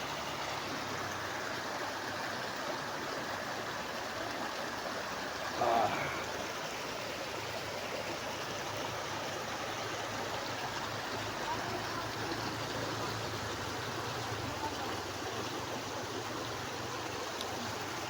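Water runs continuously in a stream at a cold-water bathing spot in the province, a soft, steady rushing flow heard faintly from nearby.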